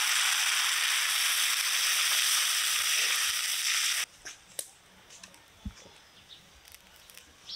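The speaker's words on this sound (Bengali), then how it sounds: "এবার ঝোলের জন্য জল দেব।" Tomato and spice paste sizzles loudly and steadily in hot oil for curry, then water is poured in and the frying hiss cuts off abruptly, leaving a quiet pan with a few soft clinks.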